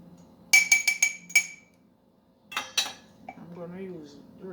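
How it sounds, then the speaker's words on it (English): A metal spoon clinks and scrapes against a pot while Jamaican rice porridge is stirred, in quick bursts of ringing taps with a pause between, and a voice speaks briefly at the end. "You have to make sure you stir it."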